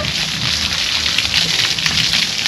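Water splashing and sloshing steadily during outdoor Holi play, a dense continuous wash close by, as if poured or thrown over people.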